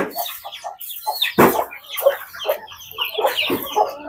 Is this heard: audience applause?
no